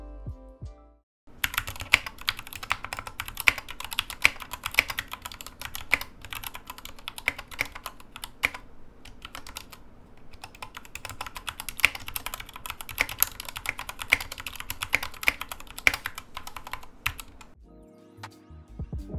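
Steady, fast typing on a custom mechanical keyboard fitted with heavy Gateron Black linear switches, a dense run of close clacks and thocks with brief pauses, alone and without talk.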